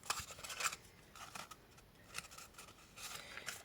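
Scissors snipping paper for a handmade box, a few quiet crisp cuts in short bursts near the start and again toward the end, close up with no talking.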